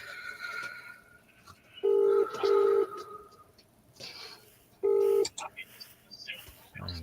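Keypad tones from a phone being tested outdoors: three short, loud steady beeps in two quick close presses and then a single press later, with faint background ambience between them.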